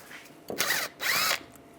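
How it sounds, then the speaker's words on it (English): A power tool with a T30 socket spins out the brake caliper bracket screw on a 2006-2009 Mercedes-Benz E350, two short whirring bursts close by separated by a brief pause. "Take this screw out, use a T30 socket."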